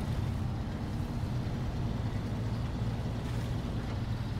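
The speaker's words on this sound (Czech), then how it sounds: "Jo, motor mu jede." Truck engine idling in the off-road driving game SnowRunner, a steady low rumbling drone that holds evenly at fairly loud volume without speech.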